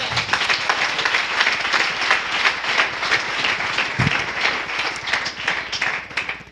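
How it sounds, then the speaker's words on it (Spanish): A crowd applauds steadily and fairly loudly at a church evangelism and discipleship class, a dense wash of many hands clapping without a break. "Bríndele ese aplauso a nuestro Señor."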